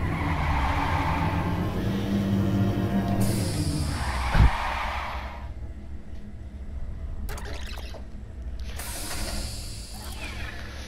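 A car in the LittleBigPlanet 3 video game braking hard with a brief skid and tire scrub over engine noise, followed by a sharp thump and quieter mechanical rattles, with no talking.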